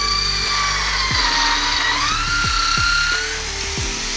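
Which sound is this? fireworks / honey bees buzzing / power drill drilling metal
power drill drilling metal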